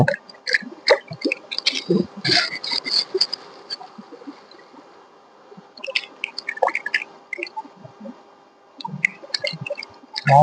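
Pieces of country chicken being washed in water outdoors, with irregular splashing, squishing and dripping sounds close by against a faint steady background.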